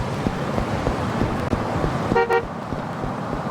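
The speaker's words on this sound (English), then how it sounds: "Being honked at." A car horn honks in Yakuza 5 Remastered, a short stacked burst of tones near the two-second mark rising over a steady bed of city traffic and engine rumble.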